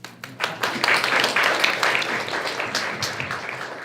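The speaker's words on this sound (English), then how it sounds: "Let's now give him a round of applause so loudly that perhaps he can hear us in Paris." Audience at an evening event at a French consulate breaking into loud applause, many hands clapping in a dense, sustained burst that peaks early and slowly tapers.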